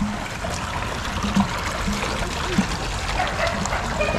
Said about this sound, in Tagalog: pumapasok yung tubig.